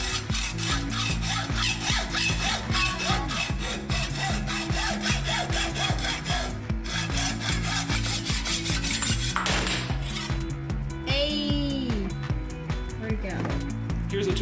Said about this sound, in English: This is the hacksaw guide.